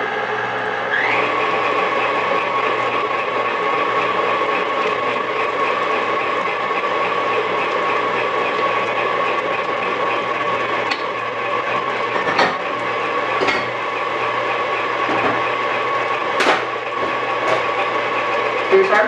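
An electric mixer whirs steadily and loudly as eggs are beaten one at a time into almond puff batter, giving a continuous mechanical drone with a few brief clanks against the bowl.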